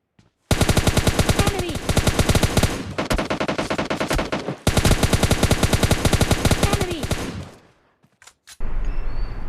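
Rapid automatic gunfire in the mobile battle royale game PUBG Lite rattles in two long, loud, evenly spaced bursts separated by a brief gap, followed by a final short burst.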